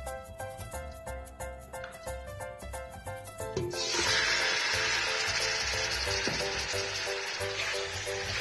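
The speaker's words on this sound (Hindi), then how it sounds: "अब हम अपनी चिकन इसमें डालने जा रहे हैं" Chicken pieces dropped into hot ghee in a pot, bursting into a loud, steady sizzle that takes over midway and keeps frying without letup.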